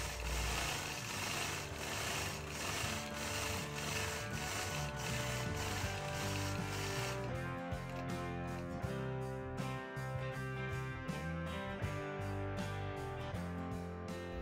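A sewing machine stitches quilting lines across an angled striped quilt block, a continuous mechanical whirr that shifts partway into a faster, rhythmic run of clicking needle strokes, fairly close and steady throughout.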